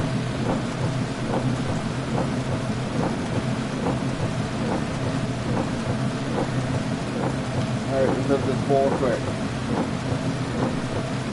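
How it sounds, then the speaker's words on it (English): Heavy rain in the rally game Dirt Rally 2.0 on an Australian stage: a dense, steady downpour with low rumbling thunder underneath, while someone talks briefly over it. "The heavy rain with the blackness in the background and the trees lit up."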